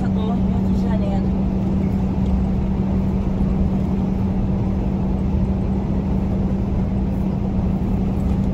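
A car drives along a road on the way to Rio de Janeiro, its engine giving a steady, loud droning hum with road rumble throughout, while someone talks over it.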